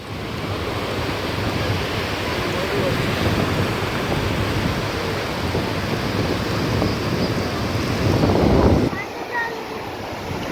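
Continuous roar of sea waves and surf washing in, loud and broadband, with a swell near the end before it eases off.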